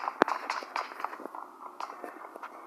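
Video game footsteps, a run of short irregular steps heard alone at close range, fairly quiet, with a sharp louder hit near the start.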